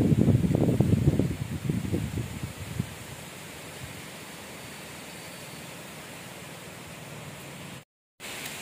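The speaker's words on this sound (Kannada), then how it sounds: "ಗಾಳಿ ಸೌಂಡ್ ಕೇಳ್ತಾ ಇದೆ ಅನ್ಕೊಂತೀನಿ, ತುಂಬ ಗಾಳಿ ಬೀಸ್ತಾ ಇದೆ ಇವತ್ತು ಮಧ್ಯಾಹ್ನ" Strong afternoon wind blows outdoors, a steady broad rushing hiss that is louder in the opening seconds with gusty low buffeting, then settles into a constant even whoosh.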